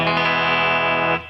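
Electric guitar played on the bridge pickup through a homebrew tube amplifier, one sustained distorted chord ringing steadily with a chorus-like shimmer before cutting off abruptly, with no voices.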